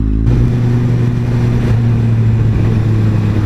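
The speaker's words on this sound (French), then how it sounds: "En quad." A quad bike engine drones loudly and steadily at close range, a constant low hum after a brief rise at the start.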